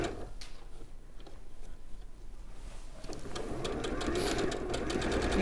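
A sewing machine stitches quilt blocks together with a quarter-inch seam, starting quietly and then running faster in a steady mechanical whir with rapid clicking, close up.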